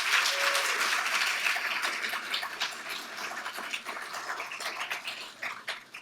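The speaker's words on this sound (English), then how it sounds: "Can we give them all a round of applause?" A ballroom audience at a media awards ceremony applauds the winners, a dense wash of clapping and a few cheers that holds strong, then slowly thins toward the end.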